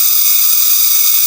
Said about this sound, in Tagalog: Pakinggan nyo naman yung huni ng mga kuliglig na yan.